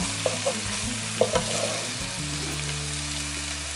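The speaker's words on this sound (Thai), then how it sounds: "ผัดให้หอมนะคะ" Garlic and chili stir-fry in a pan over medium heat, a continuous hissing sizzle with light spatula taps and scrapes near the start.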